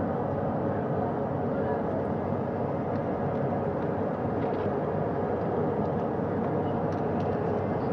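Navy helicopter rotors and turbine at the Artemis II crew recovery, hoisting astronauts aboard at sea: a steady, dense broadband roar that holds constant throughout with no breaks.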